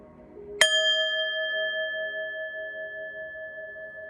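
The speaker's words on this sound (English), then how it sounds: "let's ring the bell, clear your energy, get this download" A single bell struck once, a bright clear ding that rings on with a long, steady sustain and slowly fades over several seconds, with no voices.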